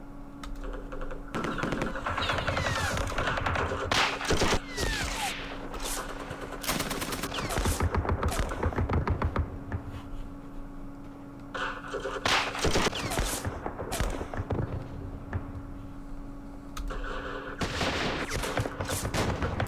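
Gunfire in the Vietnam war game Campaign Series Vietnam, set at Dien Bien Phu: repeated bursts of sharp, rattling shots and fusillades in clusters across the stretch, fairly loud, with brief quieter gaps between volleys.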